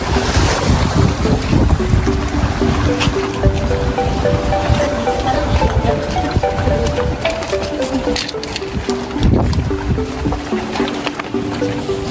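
Strong wind at an outdoor pool buffets the microphone in a constant roar, with low rumbling gusts and faint voices and tones underneath.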